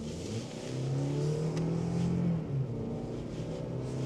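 Toyota Land Cruiser 250 Prado accelerating hard at full throttle, its engine note rising in a steady, loud rumble as revs climb, heard from inside the cabin with no talking.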